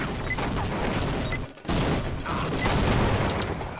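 Video game gunfire: dense, rapid shots and blasts fill the clip loudly, broken by one brief gap in the middle.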